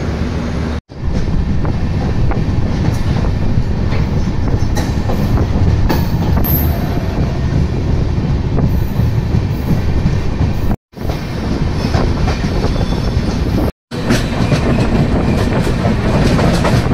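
The Dhauli Superfast Express runs on the Puri line with a loud, continuous roar of wheels and rail clatter and steady wind rush. Two brief dropouts break the sound, and no one speaks.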